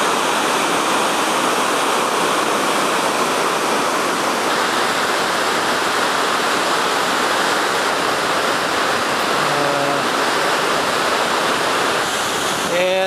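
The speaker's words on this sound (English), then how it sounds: "As you can see, there's a waterfall, Vernal Falls." Vernal Falls waterfall in Yosemite along the Mist Trail, a loud, dense and continuous roar of rushing water heard close by, with a brief faint voice near the end.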